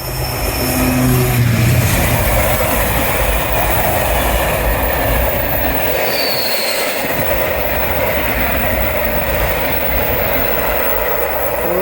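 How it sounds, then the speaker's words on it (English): A rare freight train rolls along the Teignmouth seawall railway, a steady loud rumble of wagons and wheels on rail close by, with a faint squeal and no voices. "Got a rare bit of freight on the wall."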